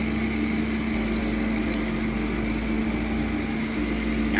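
An engraving machine drills into a metal workpiece for an amulet frame, giving a steady, continuous whine with a strong sustained hum, running alone throughout without pauses.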